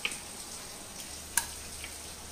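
Garam masala seeds frying in oil in a pressure cooker on the stove, a soft steady sizzle with a few faint crackling pops.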